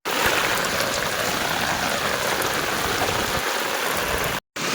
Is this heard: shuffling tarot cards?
no